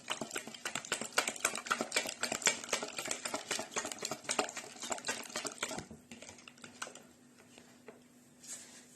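Rapid clinking and scraping of a utensil stirring milk and sour cream batter in a bowl, quick irregular strokes for several seconds, then slowing to occasional taps over a faint hum.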